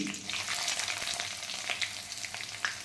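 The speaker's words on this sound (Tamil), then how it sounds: "இந்த மிளகும் ஜீரகமும் நல்லா நெய்யில் பொரியட்டும்." Steady crackling sizzle of black pepper and cumin frying in hot ghee, with small pops scattered throughout and no talking.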